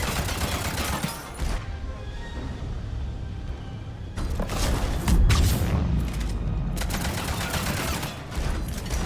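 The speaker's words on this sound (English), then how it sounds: "Direct hit with the rocket." A rocket detonates during Mass Effect 3 combat: heavy, loud explosive blasts with a low booming rumble, set among rapid gunfire bursts and mechanical clatter that swell in the second half.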